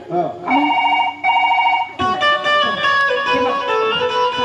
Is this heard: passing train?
no